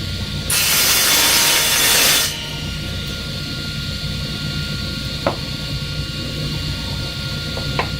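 A table saw with a crosscut sled cuts through wood in one loud, bright burst of about two seconds, then the blade keeps spinning with a steady whine and a few small clicks.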